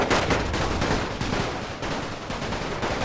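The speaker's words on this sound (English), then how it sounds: "Now this side is firing on the enemy." Dense, continuous musket volleys from massed infantry in The Great War strategy game, Austro-Hungarian forces in battle. Loud, overlapping crackling shots pour out without pause, with no talk over them.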